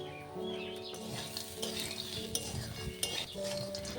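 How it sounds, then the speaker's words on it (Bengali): Crispy corn being tossed in a pan with salt, ground black pepper and chaat masala: continuous close scraping and stirring with small clinks over a faint sizzle. "সব কিছু দিয়ে আবার ভালো করে মিশিয়ে নেবো"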